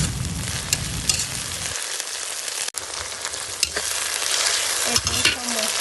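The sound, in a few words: onions frying with ginger garlic paste, being stirred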